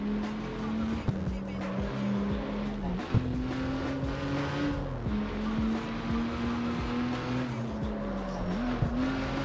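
An old Porsche engine in the racing game CarX Street howls along mountain switchbacks, holding a steady rev with several short dips like gear changes or lifts off the throttle, and faint tire squeal mixed in.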